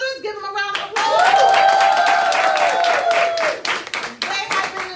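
A crowd gives a sustained round of applause for new team builders at a partner launch event, the clapping swelling after a brief spoken lead-in and holding steady under a loud, sung or shouted voice.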